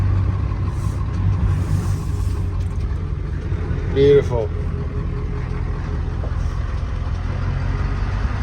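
An old Ford OBS pickup, freshly swapped from automatic to a ZF5 five-speed manual, runs in a shop with a deep, steady rumbling engine note, while someone briefly speaks over it.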